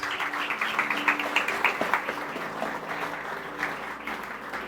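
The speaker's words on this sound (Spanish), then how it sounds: "Fuerte, fuerte ese aplauso a Dios." A church congregation applauds during a worship service, a moderately loud, sustained patter of many hands clapping, with a faint low hum underneath.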